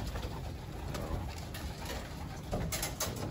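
Racing pigeons on a club training toss coo nearby against steady outdoor background noise, soft and continuous, with a few brief flutters near the end.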